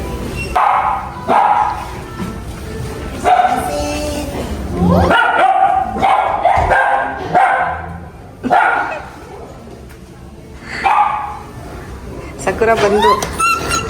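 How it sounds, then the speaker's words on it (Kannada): Dogs bark and yip repeatedly in short bursts close by, mixed with whimpers, while people talk over and between the barks. "ಸಕುರ ಡಾಗ್ ಇಲ್ಲಿ ಇಲ್ಲಿ ಇಲ್ಲಿ ಎದೊಳ್ತು ಬಂದ್ರಿ."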